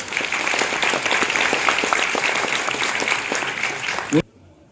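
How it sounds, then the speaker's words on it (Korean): A room full of guests at a book launch applauds a lawmaker after his congratulatory speech, with dense, steady clapping for about four seconds before it cuts off abruptly. "우리 좋은 축사해 주신 전봉구 의원님께 큰 박수 부탁드립니다"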